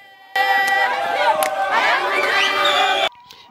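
A village crowd in Mushima welcomes the Honourable Roy Kaumba, a loud, dense mass of voices that rises abruptly, carries on steadily for about three seconds, then cuts off.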